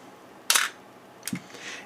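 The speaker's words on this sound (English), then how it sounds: "So now I'm going to hit the shutter release" An Olympus OM10 film camera fires its shutter: a sharp close mechanical snap followed by a softer second click about three quarters of a second later, in a quiet room.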